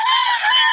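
A short, bright crow or squawk from a chicken, close and fairly loud, lasting under a second.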